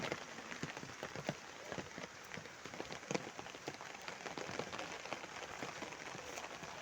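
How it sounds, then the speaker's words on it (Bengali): Light rain falls steadily outdoors on a street, a soft continuous patter of drops with scattered sharper taps close by, no one talking. "বৃষ্টি এখন জোরে না, এখন আস্তে আস্তে আসে"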